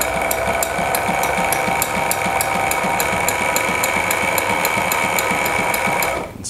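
A mini walking foot sewing machine stitches steadily along piping with 5/32 cording, a fast, even mechanical needle rhythm with a constant motor hum, loud and close, stopping just at the end.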